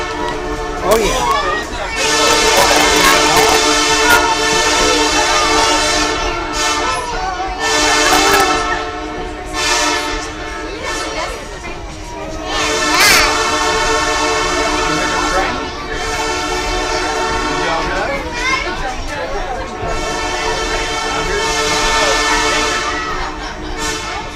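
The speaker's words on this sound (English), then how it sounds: "We'll start blowing the whistle here in just a minute as we cross 321." Diesel locomotive at the South Carolina Railroad Museum sounding its horn for a road crossing, several long loud blasts in a repeating pattern over rumbling engine noise, with a voice talking now and then.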